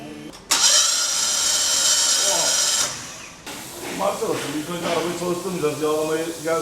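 A starter motor cranks a freshly rebuilt engine in a workshop: a loud, steady whirring drone of about two and a half seconds, then it cuts off and people talk over the lingering machine noise.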